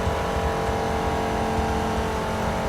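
A 1960s GT race car in TOCA Race Driver 3 holds full throttle, a loud, unbroken engine roar with a steady pitch and no talking.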